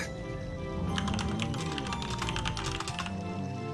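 Fast, loud typing on a computer keyboard, a dense run of sharp clicking keystrokes close to the microphone over steady room hum, with no speech.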